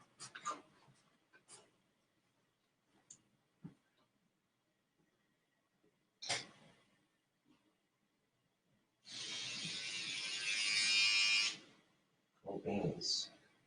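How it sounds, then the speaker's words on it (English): An electric shaver hums in a steady, loud buzz for a couple of seconds after scattered handling noises and brief talk, then cuts off, followed by more speech. "Makes me wonder if my shaver is fully charged."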